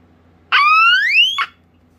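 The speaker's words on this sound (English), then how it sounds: "This is probably the coolest alarm in my entire collection." A Teledyne WaterPik Sonic Siren D-2 fire alarm sounds one loud, close electronic wail of about a second, sweeping upward in pitch with a harsh burst at its start and end, over quiet room hum.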